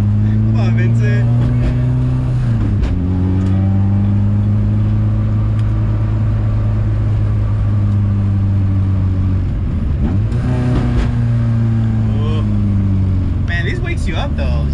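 A 1995 Honda Civic DX hatchback engine and exhaust running loud and close, the drone rising and falling through repeated revs over about fifteen seconds with no break.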